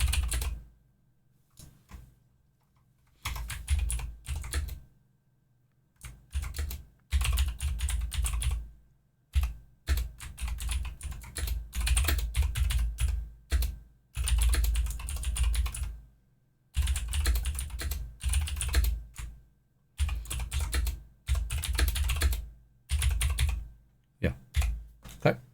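Bursts of clicky computer keyboard typing come in short runs separated by pauses, close and fairly loud, with a brief bit of talk in between.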